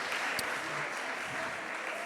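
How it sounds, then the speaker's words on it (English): Audience applause for a cultural group's performance at an exhibition launch event, steady dense clapping throughout, moderately loud and filling the room. "A round of applause once again to them."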